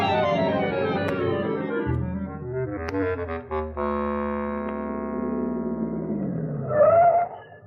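Cartoon car driving, a tonal engine whine that slides downward and then rises, with squeal-like tones and a few sharp clicks, loud and continuous under musical score with no talk.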